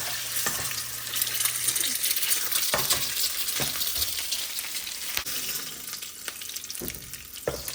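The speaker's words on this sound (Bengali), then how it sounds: "ডিমগুলাকে একটু ভেজে নিচ্ছে।" Eggs frying in a pan for pilau and egg bhuna, a loud continuous sizzle with scattered clinks of a utensil against the pan, no voices.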